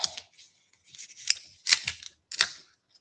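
Scissors trimming the margin of a paper sketch in a craft setting: three or four short, crisp snipping bursts at irregular intervals, close and fairly loud, with no talking.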